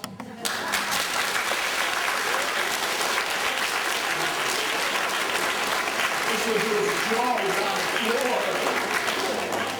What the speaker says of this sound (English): You know that usually gets thunderous applause?